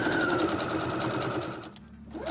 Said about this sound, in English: I'm just going to go ahead and stitch close to this edge.